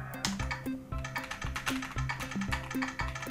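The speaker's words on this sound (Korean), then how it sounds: "지금 키보드가 소리가 나고요." Quick, even keystrokes on an RGB mechanical keyboard set to produce an electronic key sound, each press giving a short tonal blip in a steady, close typing rhythm.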